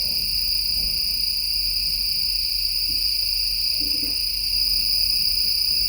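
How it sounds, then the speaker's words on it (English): Dense, continuous high-pitched chirring of cicadas and crickets fills the night air in Papua New Guinea, steady and loud, with faint low rustles beneath. "It's cicadas and crickets and stuff like that, just making all these jungle noises."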